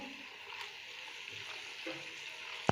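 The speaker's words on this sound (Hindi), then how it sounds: "इनको सबसे पहले डाल के हम 2 मिनट इसको इसी तरीके से पकाएंगे" Peas and mixed vegetables cooking in a pan for sabzi, giving a soft continuous sizzle and hiss with a few faint stirring scrapes and one sharp tap near the end.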